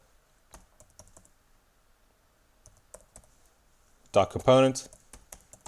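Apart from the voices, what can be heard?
typing on a computer keyboard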